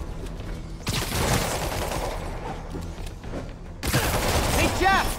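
Rapid bursts of gunfire from a firefight in the Spider-Man Remastered video game, loud and sustained volleys with a second barrage starting later, mixed with shouted voices.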